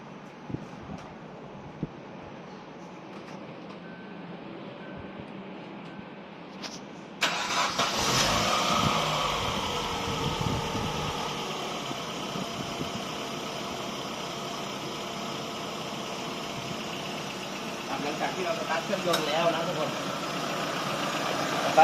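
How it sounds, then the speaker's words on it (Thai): A Chevrolet Aveo sits quiet, then its engine cranks and catches partway through, settling into a steady, close idle that swells slightly near the end. "เดี๋ยวผมไปสตาร์ทรถก่อนครับผม"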